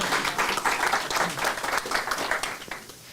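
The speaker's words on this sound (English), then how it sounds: "Let's give one more round of applause for All Cheyenne." Audience applause at a pitch day event, lively clapping with a pulsing rhythm that fades out near the end.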